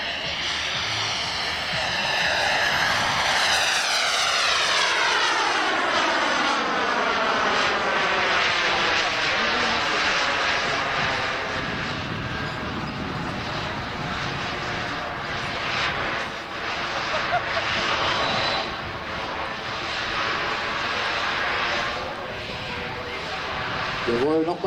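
A CARF Mephisto model jet aircraft flying aerobatics at an air show, its turbine whine sweeping up and down in pitch as it passes and maneuvers, loud and continuous, with a voice speaking over it.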